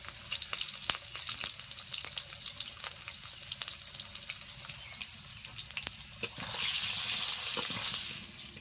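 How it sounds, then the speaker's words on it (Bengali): Potatoes lightly frying in oil with salt and turmeric for a chicken curry, steady close hissing sizzle with scattered clicks, swelling louder toward the end. "আলু হালকা করে একটু ভেজে নিচ্ছি"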